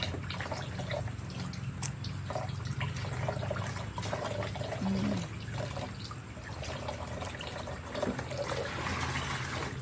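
Food being washed by hand in water to remove dirt, soft trickling and dripping with gentle splashes and light handling noises, fairly quiet and continuous, no speech.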